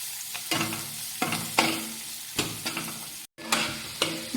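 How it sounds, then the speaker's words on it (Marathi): Masala with coriander being fried and stirred in a pan, repeated scraping strokes over a soft sizzle, close and fairly quiet, no voices. "आता हे फ्राय करताना थोडीशी कोथिंबीर ॲड करायची आहे."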